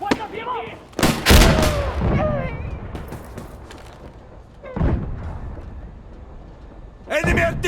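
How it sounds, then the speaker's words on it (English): Enemy artillery fire in the multiplayer video game Insurgency Sandstorm, several heavy booming blasts at irregular intervals with rumbling tails, loud and close, interleaved with shouted voices. "Enemy artillery incoming!"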